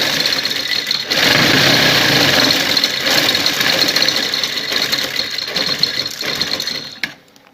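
A sewing machine runs steadily for about seven seconds, stitching a second seam along an earlier one on fabric, a loud continuous mechanical rattle close by before it slows and stops.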